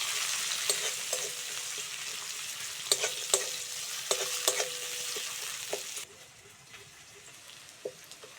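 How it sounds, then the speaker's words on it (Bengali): Chopped onions frying in a pan give a loud, continuous sizzle with intermittent stirring clacks, then the frying drops to a quieter hiss for the last couple of seconds. "পেঁয়াজটা ভালো করে ভেজে নিয়েছি"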